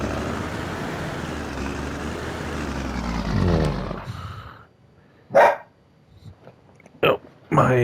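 A farm dog in the video game Farming Simulator 19 barks in a few short, sharp bursts after a stretch of rumbling vehicle noise, then fades into quiet gaps.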